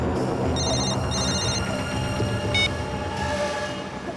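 An electronic telephone ringtone chirps in short repeated bursts over a dense bed of dramatic background music and noise, fairly loud in a tense crime-drama scene.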